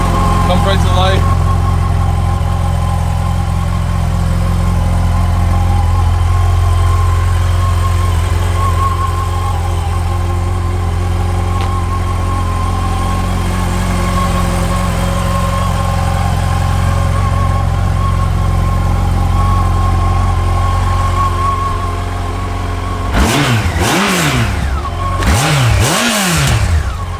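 A 2012 Yamaha FJR motorcycle engine idling steadily and loud up close for a long stretch, with a few short louder bursts near the end; a person talks over it.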